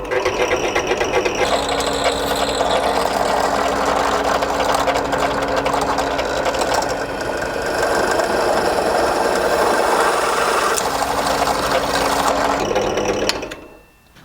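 Drill bit boring a hole through a steel replacement panel held in locking grips, a loud steady mechanical whir with grinding chatter close by, continuing for many seconds before spinning down abruptly.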